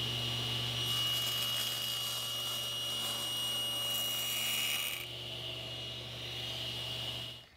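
A table saw with its blade raised to one inch cuts wood for a rosewood and epoxy knife handle, a loud steady whine that runs for about five seconds, then drops to a lower motor hum before cutting off.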